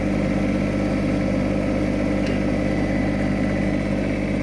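A tractor engine rumbles steadily nearby, a constant, loud mechanical drone that holds an even pitch as the vehicle drives along.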